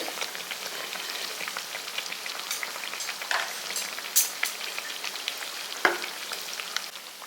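Kandarappam frying in hot oil as festival prasadam, a steady dense crackle and sizzle with scattered pops and a few soft clatters as the pieces are turned over, close and fairly loud with no talking.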